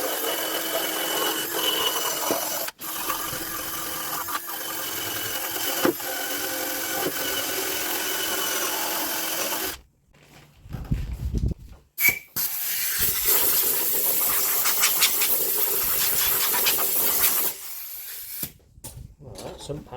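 A drill spinning a wire wheel against the edges of a Land Rover 300 Tdi Discovery sump pan, a steady loud grinding whine for most of the stretch, broken by short pauses around the middle and near the end.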